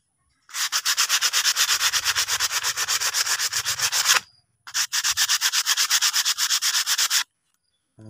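Sandpaper rubs over a carved batik pattern on a wooden machete sheath in quick, steady back-and-forth strokes, loud and close, with a brief pause partway through.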